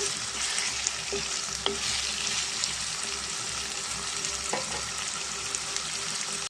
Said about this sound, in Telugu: ఫ్రై అవ్వాలండి చికెన్ కూడా ఈ మసాలా అంతా పట్టే వరకు మనం బాగా మగ్గించుకున్నామండి